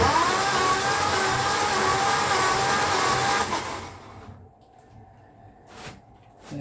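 Humber Super Snipe Mk IV engine with a compression problem being cranked over on the starter for a compression test on cylinder number 2, a steady loud churning drone for about four seconds that then cuts off.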